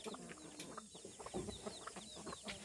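Chickens cluck and chatter continuously, several birds close by, with scattered short calls overlapping in a busy farmyard din.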